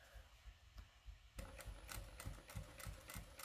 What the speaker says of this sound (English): just go back a few stitches, place your needle down manually, and I'm holding on to that thread.